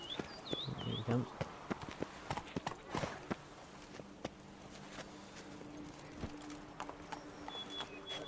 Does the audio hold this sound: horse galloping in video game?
yes